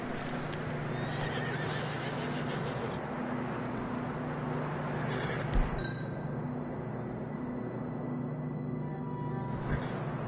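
Horses clip-clop and snort in a video game under a steady rumbling background, with a brief whinny standing out near the middle.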